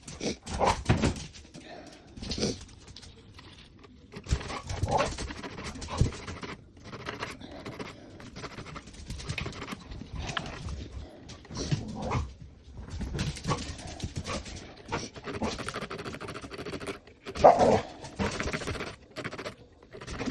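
Indoors, a pair of dogs scratch, patter and whimper in restless bursts, with a few sharp yips scattered throughout, while someone speaks intermittently over the scuffling.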